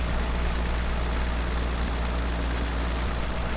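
A yard tractor idles steadily in Farming Simulator 17, a constant low rumbling drone, close and even throughout with no talking.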